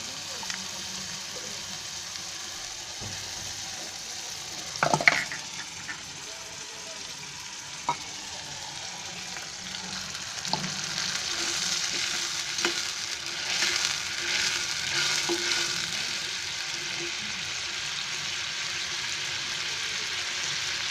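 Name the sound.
ground chili paste frying in a pan for cabbage Manchurian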